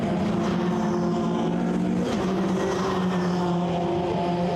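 Ginetta race car on track at Oulton Park during a Ginetta Challenge race, a continuous loud engine whine under braking and cornering, the pitch dipping briefly midway before climbing again.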